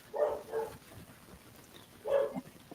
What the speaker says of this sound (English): or is that your dog, Diana?